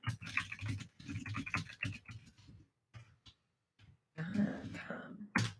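Fingers tap a computer keyboard in short, close runs of soft clicks, pausing briefly before another burst at the end.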